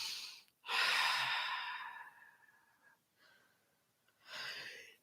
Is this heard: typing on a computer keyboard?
no